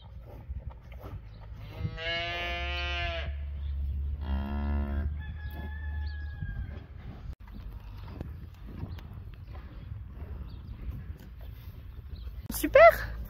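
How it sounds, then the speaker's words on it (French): A cow in a farm pen moos twice in close succession, loud and near, the calls followed by quieter barn noises and a person talking lightly in the background. "Ça c'est la vache que j'ai mise dans la case lundi"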